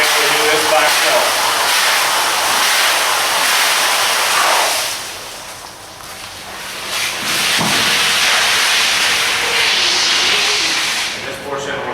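A fire hose nozzle is opened and sprays water with a loud, broad rushing hiss that dips briefly mid-way and then surges back.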